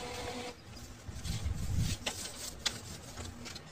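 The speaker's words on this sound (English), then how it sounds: "it's now printing out the settings of this particular printer" An HP LaserJet M111w laser printer runs as it prints a settings page, a steady mechanical whir and hum with a few small clicks, close by and without talk.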